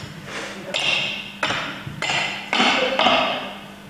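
A knife cuts open a food with a crust as hard as plaster, making a series of sharp cracking knocks and scraping strikes at an uneven pace, fairly close and clear, with no talk.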